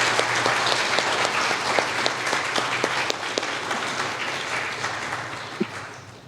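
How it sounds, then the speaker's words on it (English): An audience at the IEEE VIS 2022 conference applauds a VisComm panel, a steady wash of clapping from a moderately sized crowd with a few sharp individual claps, easing off slightly toward the end. "Can we please give them a round of applause and thank them?"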